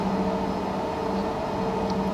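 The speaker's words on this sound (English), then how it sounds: "You can hear the pressurizer blower in the background." A constant, even mechanical whir with a steady tonal hum from the cabin pressurizer blower of a Learjet 24B during a cold startup fills the background, unchanging and moderately quiet.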